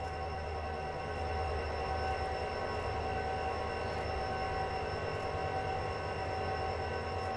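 Train running on the Mt Shasta Railway in Train Sim World 2022, a steady rumble of wheels and rail noise with faint squeal and periodic clicks, continuous and moderately loud with no talking.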